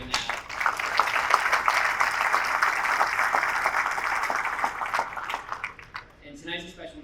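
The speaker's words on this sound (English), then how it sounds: "round of applause to everyone in this room for doing that." Audience applause fills a room at an ice hockey association's 50th anniversary awards reception, a steady dense clapping for about six seconds that tapers off as a voice begins speaking near the end.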